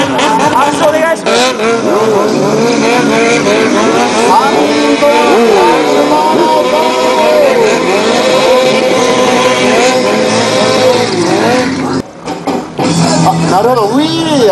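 A stunt motorcycle pulls wheelies with no front tyre down and drifts at the 2010 Yokota Air Base friendship festival, its engine revving and falling in continuous sweeping bursts while a commentator talks over it throughout.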